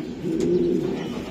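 A female racing pigeon of a strong racing line coos in a low, steady rolling hum that runs nearly unbroken and close by, with no talking over it.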